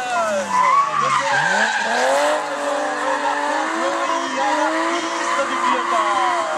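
Tires skid and squeal loudly as Benjamin Blandamour's BMW drifts toward the finish line, a long sustained screech layered with a revving engine that climbs and settles, while a commentator speaks underneath.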